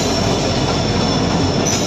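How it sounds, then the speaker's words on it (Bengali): A train rolls into a busy railway station with a loud, continuous rumble of wagons and wheels and a faint squeal near the end, with no voices. "স্টেশনে ঢুকছে ট্রেন আর কিছুক্ষণের মধ্যেই আমরা ট্রেনে উঠব"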